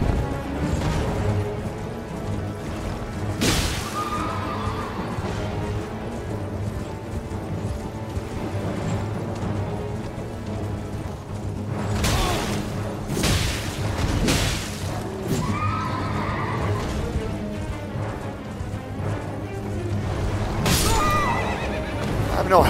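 In Elden Ring, a horse gives several loud whinnies while heavy booms and crashes from combat break out at intervals. It is loud and close, with no talking.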